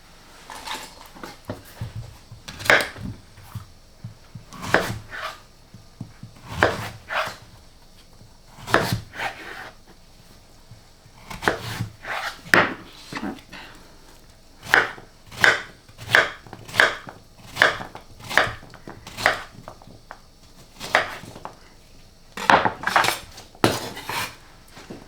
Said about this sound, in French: On peut tout à fait laisser la peau de la courgette et que je vais venir couper ensuite un petit morceau.